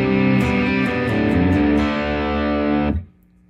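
An electric guitar through overdrive distortion rings out a sustained, thick chord that holds steadily, then cuts off sharply near the end, loud and close with no talking.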